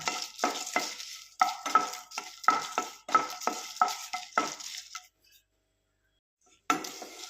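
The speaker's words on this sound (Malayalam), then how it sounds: "ഇത് നമുക്ക് നല്ലപോലെ ഒന്ന് വറുത്തെടുക്കാം" A spoon scrapes and stirs chillies roasting in a pan in quick rhythmic strokes, with light metallic clinks, then a short pause before one more stir.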